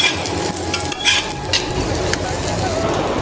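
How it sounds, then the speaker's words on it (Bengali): Soft chapatis frying in a pan, a steady close sizzle with a few soft scraping stirs and no talk over it. "আমার তুলতুলে চাপটিগুলো ভাজা শেষ"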